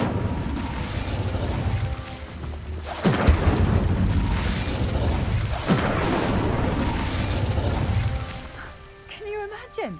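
The Incendio fire spell in Hogwarts Legacy lets out loud, roaring blasts of flame that swell and surge in waves, with booming bursts around the middle, then fades to a quieter tail with faint tonal effects.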